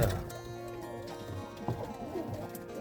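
Roller and homing pigeons cooing near the loft, giving soft low warbling coos in overlapping bursts, with a few faint rustles and knocks around them.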